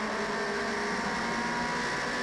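A Toyota Racing Series car at Timaru Motor Raceway in 2011 gives a steady, loud engine drone that holds an even pitch throughout the brief stretch, with no voices.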